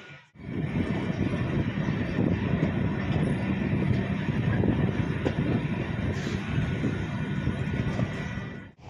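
The 10115 Bandra–Madgaon Express stands halted at Roha station, with a steady, loud low rumble and hum of train machinery filling the whole stretch and no clear talk over it.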